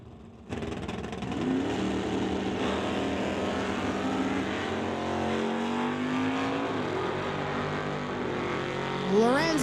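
Drag race cars, including a 1983 Monte Carlo, launch at an NHRA Summit ET finals event: a sustained engine roar with wavering, rising pitch runs throughout, swelling louder near the end.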